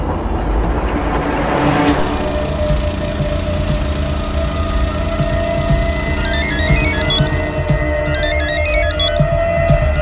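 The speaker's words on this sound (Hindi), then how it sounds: "सर, ये रमन फोन ही नहीं उठा रहा है।" A phone rings without being answered, a soft electronic ringtone pattern repeating twice in the later seconds over a constant loud engine-like drone, with no talking.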